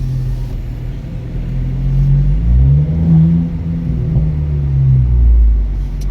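Volkswagen Polo 1.2 TSI with its muffler and resonator removed, the exhaust giving a loud deep rumble that swells as the engine revs up and eases back, heard close with no talking.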